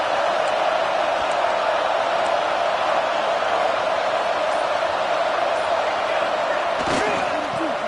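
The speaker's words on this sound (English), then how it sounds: "this crowd trying to help keep them there" A steady roar from a large stadium crowd at a Washington vs Notre Dame college football game, sustained and unbroken throughout, with a commentator talking over it and a brief sharp sound near the end.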